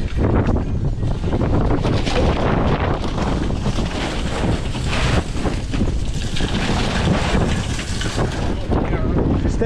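Strong gusting wind on an extremely windy day batters a microphone outdoors at a large lot being salted, a loud continuous roar and rumble with no letup.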